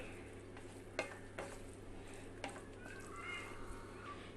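A spoon stirs bread masala in a pan, a soft low frying hiss broken by a few quiet scrapes and knocks, faint and close, with no one speaking.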